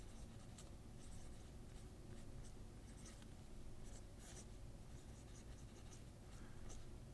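A Kuro Toga Roulette mechanical pencil writes on paper, making continuous close scratching and scribbling with short strokes repeating throughout.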